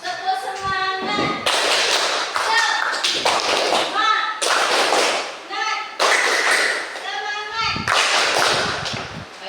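Schoolchildren in an Indonesian classroom perform the rhythmic tepuk semangat clapping chant, with sharp patterned claps mixed with chanted voices in quick alternating bursts.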